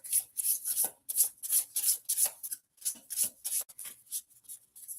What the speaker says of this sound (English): Why I had to get decks in shapes that make it a little harder to shuffle.